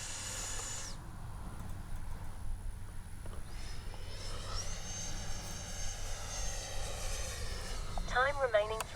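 A 70mm ducted-fan RC model JAS-39 Gripen jet flies overhead with a steady rushing hiss and whine that rises and shifts in pitch as it passes, over constant outdoor background noise.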